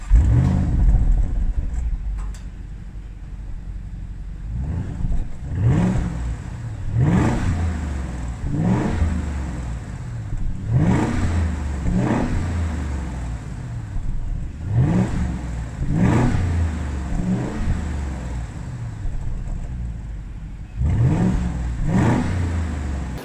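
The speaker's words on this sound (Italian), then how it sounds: "adesso vi facciamo sentire il sound, diciamo, con lo scarico originale montato" An Audi SQ8 engine with its stock exhaust revs repeatedly in short bursts over a steady idle, each blip rising and falling, fairly close.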